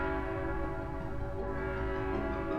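A sustained train horn echoes through train tunnels in a video game, holding one steady, loud, layered tone for the whole stretch with no break.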